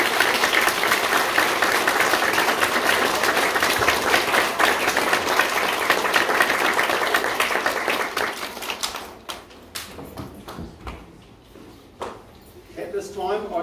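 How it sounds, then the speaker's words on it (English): Applause from a school prizegiving crowd, dense and steady for about nine seconds before thinning out into scattered claps and quiet room noise. "Let's give them a huge round of applause."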